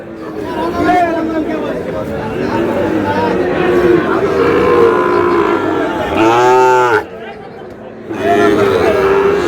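A Sahiwal cow lets out a loud, drawn-out moo close by, with people chattering around it in a busy outdoor cattle market.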